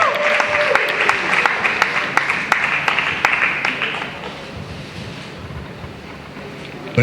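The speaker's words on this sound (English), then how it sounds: "So please make some noise for Mr. Charles Senyoje." An audience at the Mr Nigeria International 2023 pageant applauds and cheers for a contestant, with a dense, loud crowd clatter that slowly thins and fades over several seconds.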